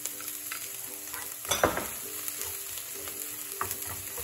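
Chopped epazote, chile and corn kernels frying in a pan with onion, giving a quiet continuous sizzle broken by one louder scrape and a few lighter stirring clicks, close and otherwise steady.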